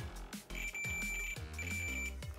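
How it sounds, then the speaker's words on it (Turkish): An electrical tester set to its buzzer and diode mode gives two steady high-pitched beeps one after the other, each under a second, over louder rhythmic background music. "Buzzer ve diyot bölümünü aldık. Şimdi sesi dinleyeceğiz."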